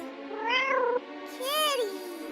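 A voice imitates a cat with two drawn-out, rising-and-falling meows in quick succession, close and clear with a short pause between them.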